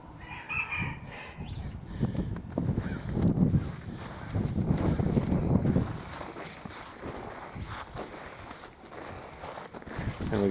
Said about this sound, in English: those are guinea hens.